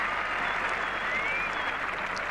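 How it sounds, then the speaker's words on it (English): Steady applause from a cricket crowd at a 1981 Ashes Test match after a boundary, a dense, even wash of clapping that carries through the whole moment at moderate distance. "Great applause"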